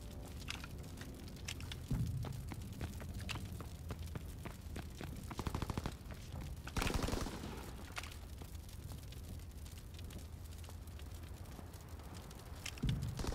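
Gunfire in Call of Duty: WWII hardcore team deathmatch on the Aachen map: a dense, fairly quiet wash of battle noise with scattered shots and a rapid automatic burst near the middle, no speech.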